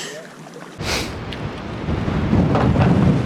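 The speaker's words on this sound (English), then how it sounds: "It's so windy and cold that my nose isn't running." Loud, steady winter wind buffeting a microphone outdoors at a river spillway, with a sharp gust near the start and roaring low rumble building toward the end.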